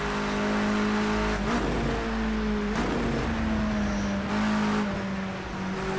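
Touring car engines race in Project Cars 2 on a wet Bull Ring circuit, a loud, near whine that rises and drops as the driver shifts and brakes on the engine, with no talking.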